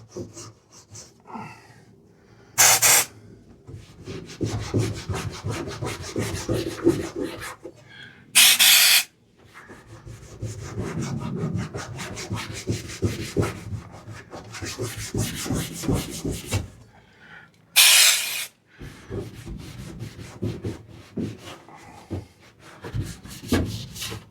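A rag rubs back and forth over a hard surface inside a Sprinter campervan in long rhythmic strokes, broken by three short sharp hisses of a mat spray bottle.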